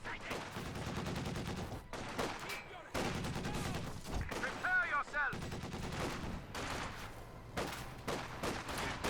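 Machine gun fire in the World War II strategy game Company of Heroes 2, with rapid bursts and rattling volleys breaking off and resuming, mixed with game sound effects and a commentator talking over it.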